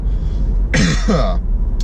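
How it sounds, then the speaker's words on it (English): A single close, throaty cough, a short rough burst breaking a quiet background hum. "excuse me, I'm about to cough."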